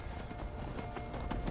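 Horse hooves clip-clop steadily across the ground in Skyrim Special Edition, a continuous rhythmic trot set against game ambience.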